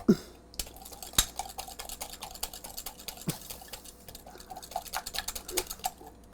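Coleslaw of shredded green and purple cabbage being stirred with a spoon after a few pinches of pepper, giving close, irregular clinks and wet scraping against the bowl at moderate loudness, with no talking.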